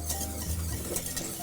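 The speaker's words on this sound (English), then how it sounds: "So I'm just gonna make sure, double check that it goes up to a simmer now. Of course, continuing to stir." Spoon stirring a simmering pot on the stove while cooking, a soft continuous scraping and bubbling close by with no talk.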